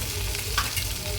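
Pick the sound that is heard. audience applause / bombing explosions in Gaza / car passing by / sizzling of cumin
sizzling of cumin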